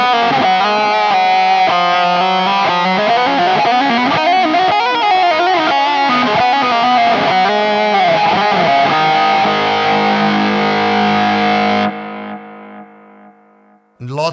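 Sustained distorted electric guitar solo tone run through a Nano Cortex modeler with heavy delay and reverb, loud melodic lines ringing alone for about twelve seconds before the notes trail off into echoing decay.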